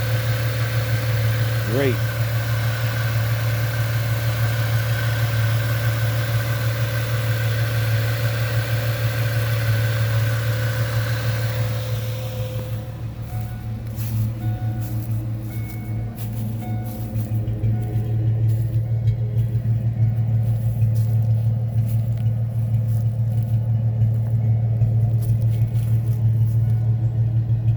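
A 1998 Ford Mustang engine, left unused for ten years, idles smoothly with a steady low hum and rumble throughout, close and continuous, while someone speaks briefly over it.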